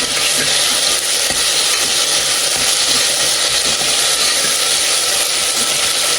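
Green chillies frying in a pan for mushroom white pulao, giving a steady, dense sizzle with occasional light stirring clicks, close and continuous with no talking.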